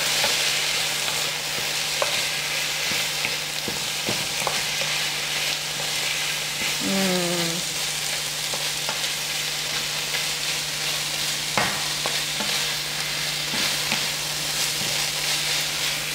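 Mushrooms frying in a pan with mustard added, a steady close sizzle with a hum underneath and occasional scrapes and clinks of stirring throughout.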